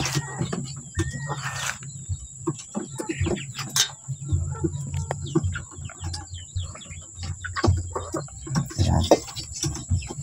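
Hens cluck and chirp close by in a steady scatter of short calls, with birds and insects in the background and a brief word spoken.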